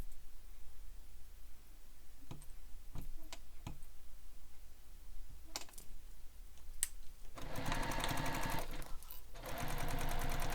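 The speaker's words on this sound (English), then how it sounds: "And I'm just sewing around this curve" A sewing machine stitches around a curve on a messenger bag pocket, opening with sparse ticks and short clicks before a dense, steady run of stitching takes over near the end.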